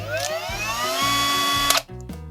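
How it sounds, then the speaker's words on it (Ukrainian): A Leader 12V mini angle grinder with a 76 mm disc cuts through a threaded metal rod, giving a close, high whining grind with rising tones that ends abruptly as the spindle stops. "шпиндель зупиняється миттєво. Шпильку ріже без проблем."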